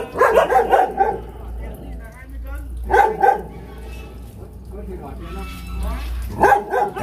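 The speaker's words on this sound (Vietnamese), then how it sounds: "Mấy con chó đó, kia nó hơi đang sủa các bác thông cảm nhé." Several dogs bark in bursts of yapping and whimpering at a bonsai garden, loud and close, with someone talking over and between the barks.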